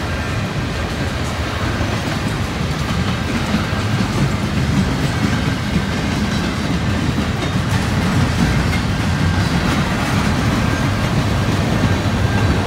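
A train rumbles steadily past near Tunnel Hill, Ringgold or Dalton, Georgia, its wheels clattering over the rails in a constant loud roar with no one speaking.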